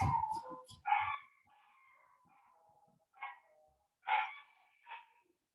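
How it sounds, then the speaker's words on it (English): A dog barking in a garden, heard as a few faint, distant barks and yelps spread in short bursts with quiet gaps between them. "Sorry, dog is in the garden."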